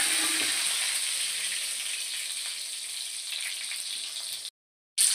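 Tomatoes frying in hot oil with dried red chillies and garlic for Tamil kara chutney, a steady bright sizzle that fades slightly before cutting out near the end.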